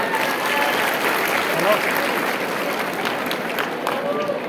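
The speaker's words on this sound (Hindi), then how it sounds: "सभी हमारे विनर्स परिवार के एक एक सदस्य के लिए एक बार जोरदार तालियां" Audience applause at a Winners foundation day celebration for members of the Winners family, a steady dense wash of clapping held evenly throughout with voices mixed underneath.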